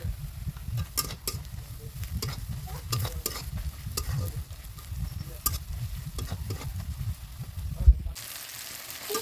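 Chicken kosha masala being stirred in a hot pan with ground coriander, turmeric and ginger-garlic paste: steady scraping and sizzling throughout, close and continuous, ending with a sharp knock of the spoon.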